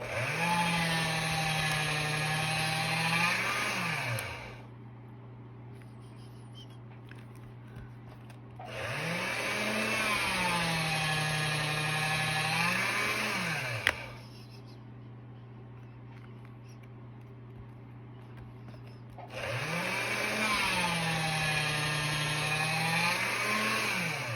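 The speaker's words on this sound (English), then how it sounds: "Place the fold on the rollers and roll through again." A pasta machine presses a sheet of polymer clay through its rollers in three loud mechanical runs of several seconds each, with quieter gaps of handling between them.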